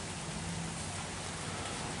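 Steady rain falls in Michigan on a summer day, a dense even hiss of drops with no talk.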